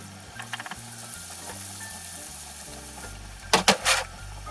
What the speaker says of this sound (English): Now we want to put the donuts that we have into the hot oil and let them deep fry until they're golden brown all over.